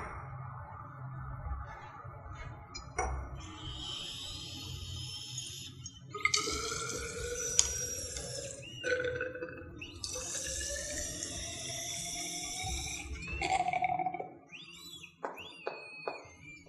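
Water poured into a measuring cylinder for a Form 4 chemistry lesson on energy changes, a steady splashing pour that rises and falls in a few bursts, with brief high tonal sweeps as the cylinder fills, alone without talk.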